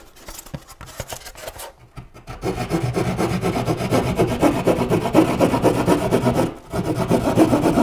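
A hand saw rasps through sheetrock while cutting a circular ceiling opening for a speaker: irregular scraping strokes at first, a short pause, then several seconds of steady, close, continuous sawing.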